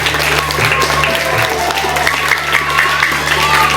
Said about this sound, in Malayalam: ഒന്ന് ക്ലാപ്പ് ചെയ്യാം